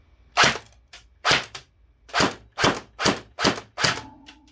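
Seven sharp rifle shots fired one after another over a velocity meter, each a loud, close crack with a short decaying tail, spaced at irregular intervals with quiet gaps between.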